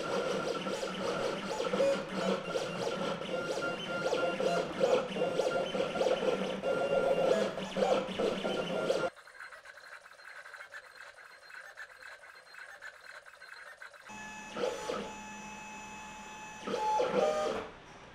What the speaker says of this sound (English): it's going to send it straight to the printer, which will start cutting it out of the vinyl.